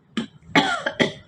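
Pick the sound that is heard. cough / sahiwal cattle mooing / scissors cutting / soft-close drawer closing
cough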